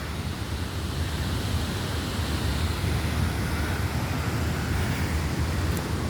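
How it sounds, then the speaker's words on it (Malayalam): Strong wind roars steadily across the microphone on the hilltop at Illikkal Kallu, a continuous low rumbling gust with no voices. "ഇപ്പം തന്നെ നല്ല കാറ്റുണ്ട് ഇവിടെ"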